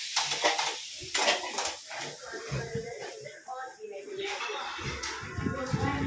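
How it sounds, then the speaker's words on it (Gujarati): Utensils being scrubbed and washed at home, with steady clattering and scraping of dishes, pots and cutlery going on under loud family chatter and voices throughout. "મારી બેન વાસણ ઘસે છે."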